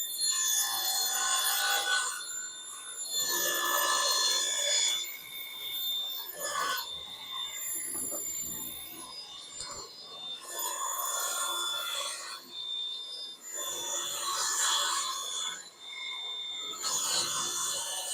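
A 2-horsepower table saw feeds slowly through hardwood, giving a sustained, close, tonal whine with a rasping cut that swells and eases in long waves.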